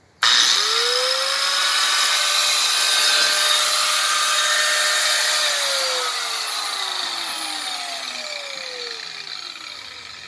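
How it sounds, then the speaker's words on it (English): Angle grinder cutting through a heavy piece of metal for a DIY crawfish trap, a loud, steady high whine that starts abruptly and holds for about ten seconds, its pitch sagging slightly under load as it fades a little toward the end. "So this is a pretty heavy piece of metal, so we're gonna use the old"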